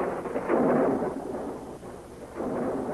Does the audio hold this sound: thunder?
yes